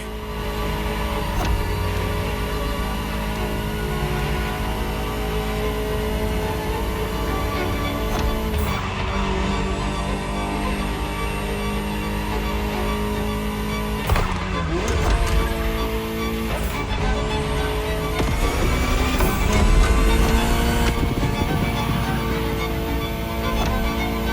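A Ferrari driven in the racing game The Crew Motorfest roars steadily and loudly throughout, with engine revs climbing and dropping through gear changes and brief tire squeal near the middle.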